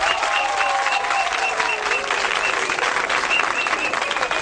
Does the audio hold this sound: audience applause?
yes